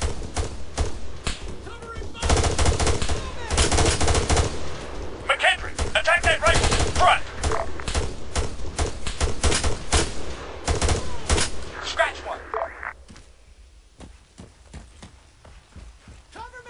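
Dense gunfire crackles through a firefight in the video game ARMA, with rapid rifle bursts and overlapping shots from several directions, loud and continuous before tapering to scattered distant shots, while voices shout over it.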